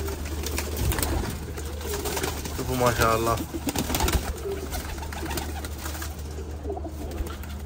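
Kept pigeons, including a breeding pair, coo and call close by in a short burst over steady background noise while someone talks over them.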